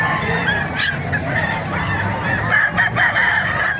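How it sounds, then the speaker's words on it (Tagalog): Many chickens clucking and squawking at once in Calumpit, Bulacan, a busy, overlapping flock heard close by, with honking calls rising above the clamor. "Napakaraming manok ngayon dito ngayon sa Kalumpit, Bulacan"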